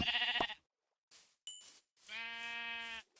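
Several electronic-sounding Minecraft goat bleats ring out in short separated bursts, with a bright chime between them.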